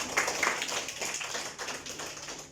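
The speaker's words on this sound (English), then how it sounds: "Clap for Mehrosh" A classroom of schoolgirls claps together, a quiet patter of many small hand claps at moderate distance, irregular and overlapping for a couple of seconds.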